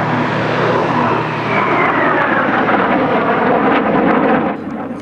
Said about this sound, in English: Swept-wing aeroplane, but very graceful, very docile, and a very forgiving machine.